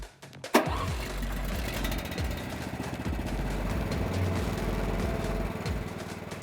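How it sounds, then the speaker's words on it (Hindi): A Swaraj Code tractor with a 390cc four-stroke petrol engine chugs nearby in an even, steady beat, loud and continuous after a brief knock at the start. "इसमें लगा है 390 सीसी 4 स्ट्रोक पेट्रोल इंजन।"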